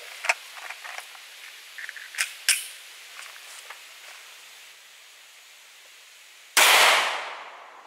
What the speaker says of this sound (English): the second round we're going to shoot is the 124 grain Federal Premium HST